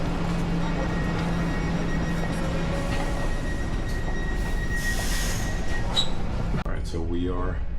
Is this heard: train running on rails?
yes